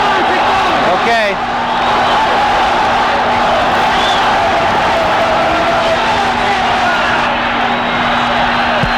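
Boxing arena crowd cheering for Mike Ayala in a 1979 bout against Danny López, a sustained roar of many voices. A steady hum runs through it and a ringside commentator talks over it.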